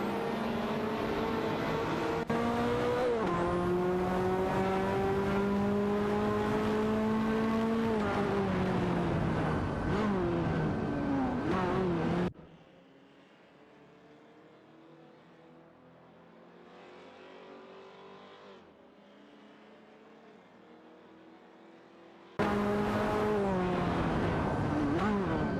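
In a racing video game, a Mitsubishi and a Lamborghini Diablo race with loud, whining engines that rise and fall through gear changes. The engines drop to a muffled, quieter stretch midway, then return at full volume.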